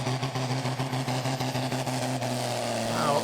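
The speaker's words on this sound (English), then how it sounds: "Turbocharged diesels in this class with centrifugal-powered slipper clutches" A turbocharged diesel tractor with a centrifugal slipper clutch roars steadily under load during a tractor pull, a loud continuous throbbing engine note that pulses rhythmically throughout, with a commentator talking over it.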